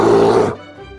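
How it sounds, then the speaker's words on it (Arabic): A bear growls in a single low, rough rumble for about half a second, then cuts off, leaving only faint residue behind. "bear,"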